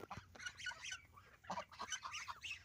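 Geese honking repeatedly and fairly loud in a farmyard where they mingle with turkeys, a dense run of overlapping calls that fills the whole stretch.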